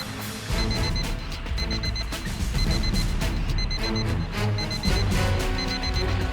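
An alarm sounding from a stolen car suspected of holding a bomb: a repeating electronic beeping pattern in short, regular bursts, loud and continuous, over a busy background of dramatic scene noise.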